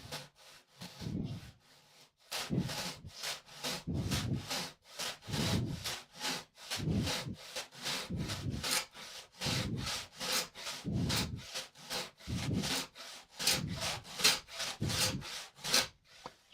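Handsaw working through a resin-filled wood knot, long rasping strokes repeating in a steady back-and-forth rhythm, close and fairly loud, with a brief pause early on before the strokes resume.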